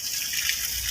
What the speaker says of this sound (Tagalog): kaya yung puno basa-basahin natin para bukas ng umaga